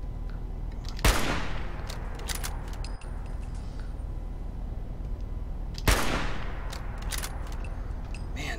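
Gunfire in the video game Fallout 4 against a hidden enemy, with two heavy blasts each trailing off into a long rumbling decay over a steady game soundscape; a player briefly speaks.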